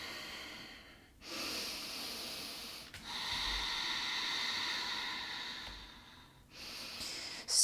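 Deep breathing during a hatha yoga session, with two long, steady breaths of soft airy hiss, one of them slow and sustained, close to the listener and with no talking over them.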